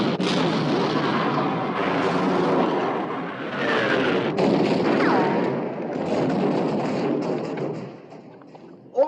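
Naval guns fire in heavy, rumbling booms from a warship battle scene in the 1960 film Sink the Bismarck, dense roaring blasts rolling over one another with a sharp crack near the end.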